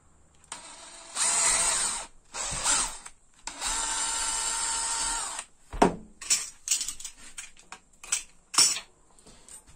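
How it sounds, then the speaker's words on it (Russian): A power drill with a 7 mm bit bores a hole through a plastic bottle cap in several bursts, two long runs and shorter ones, followed by clicks and knocks of handling, close and clear. "Делаю сквозное отверстие, ну,"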